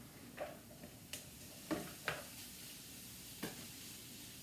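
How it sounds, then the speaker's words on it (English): Rice and onions fry in a pan on a stove turned up high, a faint, quiet sizzle broken by a few sharp clicks and scrapes of a utensil against the pan. "That's why they call it fried rice, because they fry it."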